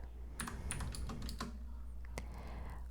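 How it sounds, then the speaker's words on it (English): Soft, close typing on a computer keyboard, a quick burst of keystrokes followed by a few scattered taps, heard alone and quietly. "soothing typing sounds"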